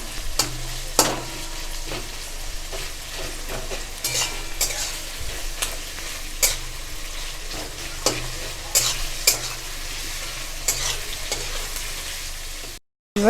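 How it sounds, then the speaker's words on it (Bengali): Onions browning in hot oil in a pan for a Bengali taro-stem dish, stirred with a utensil: a steady, close sizzle runs throughout, broken by regular scraping clicks of the spoon against the pan, with no voices. "এটা একটু তেলে ভালো করে লাল করে একটু ভেজে নেবেন"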